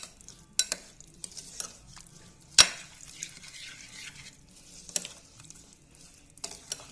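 Spoon stirring and mixing a fresh turmeric, chili and lemon pickle in a bowl, a faint soft scraping with a few sharper clinks, quiet and close, with no talking.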